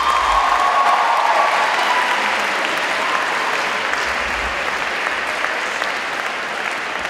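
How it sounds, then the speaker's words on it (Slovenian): A school event audience gives the organizers a long round of applause, loud and steady at first and easing slightly toward the end, with scattered cheers mixed in. "tako da bi jaz res prosil za velik aplavz za organizatorje današnjega dogodka"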